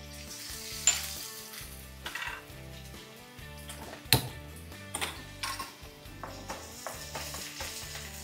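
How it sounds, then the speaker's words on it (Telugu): Finely chopped garlic and green chillies fry in hot oil as the base for fried rice. The soft, quiet sizzle is broken by light clinks and scrapes of a spoon stirring against the pan. "ఆయిల్ వేడెక్కాక సన్నగా తరిగి పెట్టుకున్న వెల్లుల్లి, సన్నగా తరిగి పెట్టుకున్న పచ్చిమిర్చి,"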